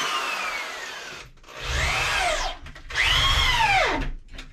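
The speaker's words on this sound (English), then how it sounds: "I want to put the three inch screws in there" A power drill with a Torx bit drives three-inch screws in close, loud whirring bursts, its motor pitch sweeping down as each screw bites and tightens, with brief pauses between runs.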